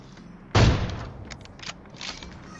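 A grenade explodes in Counter-Strike as one sharp, loud blast with a rumbling tail, followed by a few fainter pops and crackles.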